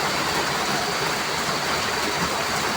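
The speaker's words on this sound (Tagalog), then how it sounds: "Dinig mo naman tulog sa ang pagpasak ng ulan sa bubong ng bahay." Steady, dense, heavy rain pattering on a house roof, a continuous broadband hiss with no pauses and no voices.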